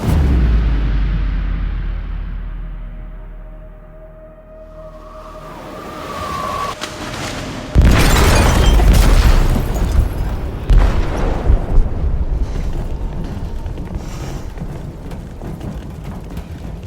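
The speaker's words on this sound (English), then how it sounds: "They detonated an explosive in the hold." Explosive detonating in a ship's hold in Detroit: Become Human, a loud, deep blast that bursts in after a quieter rumbling stretch, followed by lingering rumble and crashing debris with no talk.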